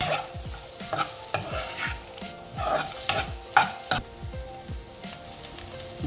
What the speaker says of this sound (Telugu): అందుకని ఫస్ట్ దీంతో పాటు ఇదే నూనె మొక్కజొన్నని వేయాలి